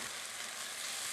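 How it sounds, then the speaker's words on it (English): Garlic and chicken stock boiling in a pan, a steady, close bubbling sizzle with no breaks and no talk. "Where it is right now is boiling."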